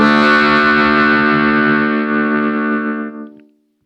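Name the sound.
harmonica through Old Blood Noise Endeavors MAW with saturation distortion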